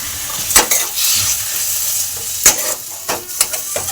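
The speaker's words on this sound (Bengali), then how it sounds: "দিয়ে আমি চিকেন কিমাটা একটু কষে নেব।" Chicken mince stir-fried in a pan gives a loud close sizzle broken by several sharp scrapes and clanks of a spatula against the pan, with no talking.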